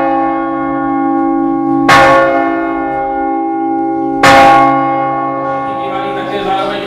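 Historic church bell in the tower at Tovačov striking twice, loud and close, each stroke leaving a long, steady humming decay that rings on between the blows.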